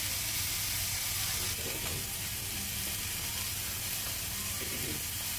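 Mixed vegetables sauté in hot oil in a pan for bhogichi bhaji, a continuous close sizzle and hiss with faint stirring scrapes throughout.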